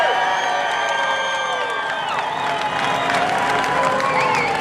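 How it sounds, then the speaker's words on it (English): A crowd at a live drag racing event at Xtreme Raceway Park applauds and cheers steadily and loudly, with whoops rising over the clapping throughout. "the loudest round of applause you can give on your feet for our veterans, both active and retired. Make some noise, Texas!"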